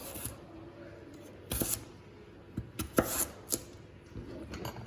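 A knife chopping an onion on a board, a handful of quiet, uneven cuts with sharp taps in the second half over faint room background.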